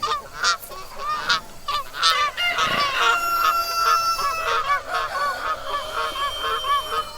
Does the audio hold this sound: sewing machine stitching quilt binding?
no